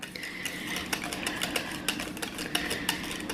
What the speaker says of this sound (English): we gotta whisk that in until all of our butter's melted